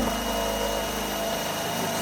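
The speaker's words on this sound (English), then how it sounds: "we're drilling." A power drill bores steadily through a plastic mushroom-growing container, giving a continuous, even whine at close range with no pauses.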